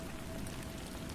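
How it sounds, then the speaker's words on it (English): Steady light rain tapping on a bathroom window, a soft continuous patter of drops heard alone with no voices. "The rain outside tapped lightly against the bathroom window"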